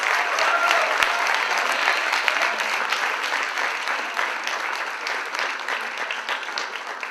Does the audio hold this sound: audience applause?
yes